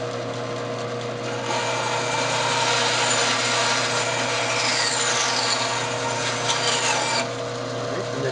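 A bandsaw cuts through a round wooden box on a lathe-made bandsaw box, the motor humming steadily while the blade's rasping bite swells loud for several seconds, then eases back.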